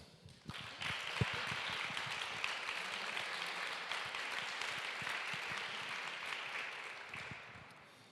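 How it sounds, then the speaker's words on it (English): A press conference crowd at an art exhibition applauds artist Monira Al Qadiri, with sustained, close, even clapping that starts abruptly and tapers slightly at the end. "I think she deserves an applause."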